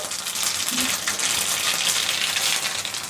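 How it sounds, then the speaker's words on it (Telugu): Mustard seeds crackle and sizzle in hot oil in a kadai, a dense, loud hiss that runs steadily throughout with brief spatters, and nobody speaks. "నేనైతే కడాయి పెట్టేసి ఆయిల్ వేసేసాను చూడండి ఆవాలు వేస్తున్నాను ఇప్పుడు ఇలా"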